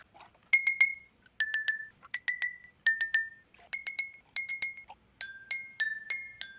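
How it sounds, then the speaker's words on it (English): Glass cups holding different amounts of water are struck like a homemade marimba, giving a clear, bright sequence of ringing clinks in a short rhythmic tune, alone and close. "To make a marimba at home, look for some glass cups and some water."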